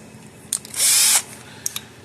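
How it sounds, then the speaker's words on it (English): A power drill whirs in one short burst of about half a second while being readied to bore into a Gallagher M800 electric fence energizer, close and loud, with a few small clicks before and after. "So what we have to do, we need a drill."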